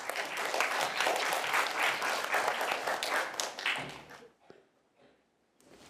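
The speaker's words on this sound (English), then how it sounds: "So let's give her a round of applause" A round of applause from a school speaking contest audience, brisk clapping from a roomful of people that holds steady for several seconds, then tapers off abruptly into near silence with a few stray claps.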